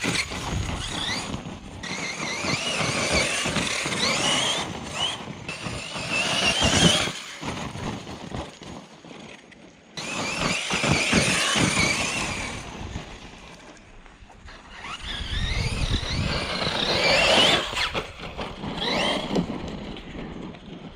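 A HoBao MTX RC truck drives through muddy, rutted ground, its electric motor whining and rising in bursts as the tires churn and slap through the mud over about twenty seconds.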